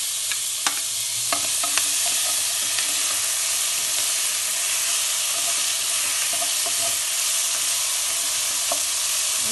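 Tomatoes and green chillies dropped into a hot pan of oil, a loud dense sizzle that fills the whole stretch, with sharp crackles and spoon clicks breaking through near the start, close up and without voices.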